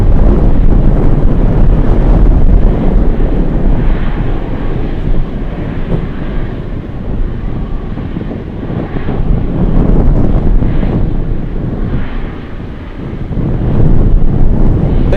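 Gusty wind batters an outdoor microphone beside runway 15 at Anchorage airport, a loud, low buffeting roar that surges and eases in waves throughout, with no voices.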